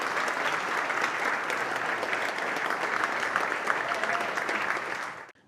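Sustained audience applause at a startup demo day event, dense and steady from a full room, continuing evenly before cutting off abruptly at the end.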